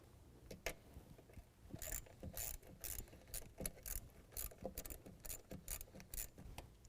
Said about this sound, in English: Then we're going to go loosen the hose clamp on the other side of the intake tube.